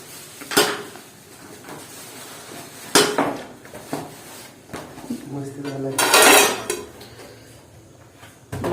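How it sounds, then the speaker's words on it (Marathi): Steel plates and dishes clatter and clink as people pick them up for a shared meal cooked over a stove in a shared room, with sharp scattered knocks and a longer rattling burst, while people talk quietly in the background. "चला ताटा घ्या."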